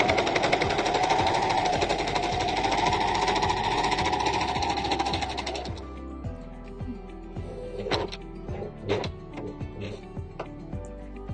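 An overlock sewing machine stitching a hoodie seam: a loud, fast, steady mechanical whir for several seconds, then it stops, leaving scattered clicks and handling noises.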